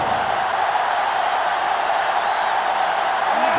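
A sellout stadium crowd in the college football video game NCAA Football 07 roars as a steady, loud, continuous wash of noise with no breaks, filling the whole stretch without any clear talk.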